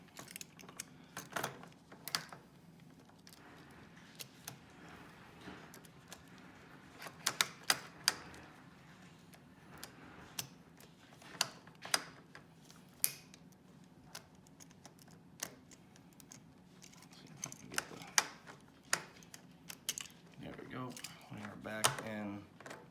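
An ignition switch being refitted on a Harley-Davidson Street Glide motorcycle, a series of small sharp clicks, taps and plastic rattles at close range, scattered irregularly with quiet stretches and someone talking at times.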